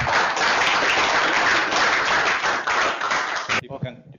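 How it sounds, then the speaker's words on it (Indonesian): An indoor audience at an evening distributor club meeting breaks into loud, dense applause that carries steadily for over three seconds, then cuts off as a voice begins talking. "Ya, tepuk tangan."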